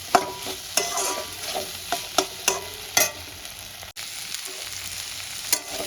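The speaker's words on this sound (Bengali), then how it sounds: "দেখো কি সুন্দর ভাজা ভাজা হয়ে গেছে" Spring onion, potato and egg fry together in a pan, giving a continuous close sizzle with regular sharp spatula scrapes and taps as the vegetables are stirred.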